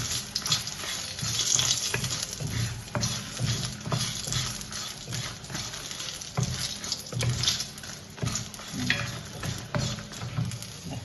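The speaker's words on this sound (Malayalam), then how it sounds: "ആ മല്ലിയുടെയും മുളകിൻ്റെയൊക്കെ വറവ് കറക്റ്റായിരിക്കണം" Coriander seeds and dried chilies roasting in a pan for a Kerala sardine curry give a steady close sizzle, with scraping stirring strokes recurring throughout and no talk.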